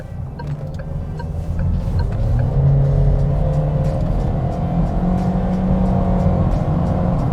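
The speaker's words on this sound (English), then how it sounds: "So let's try to hear the engine at this turn." A 2022 Geely Emgrand Premium's engine hums steadily from inside the car through a turn, a continuous low drone with road noise that swells slightly midway, with no talking.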